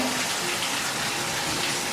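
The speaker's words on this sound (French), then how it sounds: "vous avez ici la pression d'eau qui est quand même très, très bonne" Water gushes strongly from a bathroom tap in an apartment, a loud, steady, broadband rush that stays close and constant throughout.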